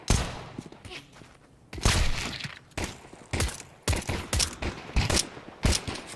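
Rapid pistol gunfire during a Counter-Strike pistol round at a Major esports tournament, loud sharp shots in irregular bursts and quick volleys with brief gaps, a caster's voice faintly underneath at times.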